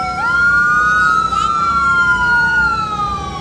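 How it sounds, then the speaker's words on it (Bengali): A loud ambulance siren on a street in the US wails in long, smooth rising and falling sweeps, sounding close and continuous over low traffic rumble. "এখানে কিছু একটা হয়েছে, অ্যাম্বুলেন্স চলে এসেছে। বাবা কি আওয়াজ!"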